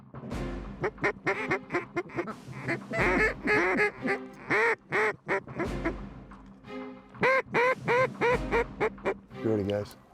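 Mallard ducks quack loudly and nearby while hanging over decoys on a public river-bottom duck hunt on the Ark River in central Kansas, in repeated bursts of descending raspy calls.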